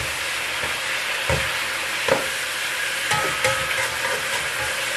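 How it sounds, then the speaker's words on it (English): Steak frying in a pan with a steady close sizzle, broken by a few soft scraping stirs of a utensil, no voices. "don't forget to keep stirring your steak"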